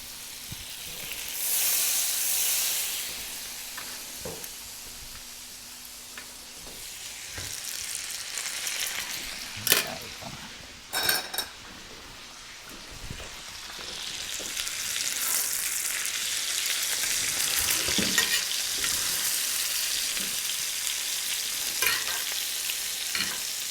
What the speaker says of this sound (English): Roast it on one side, roast it on the other, spoon that beautiful butter all over the lamb.